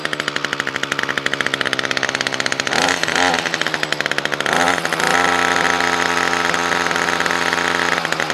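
Small equipment engine on half choke, warming up after sitting unused all year: a loud, steady, buzzing idle that dips and wavers briefly twice midway, then settles back.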